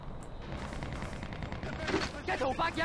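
Rapid bursts of AK rifle fire in the Vietnam War shooter Shellshock Nam '67, loud and dense, with crackling shots piling up toward the end over a busy battle backdrop and faint voices.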